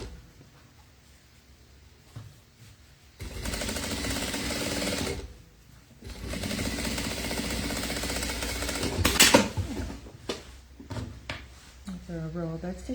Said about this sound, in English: A row of edge stitching, so when that seam gets flipped in like that, keeps it from peeking out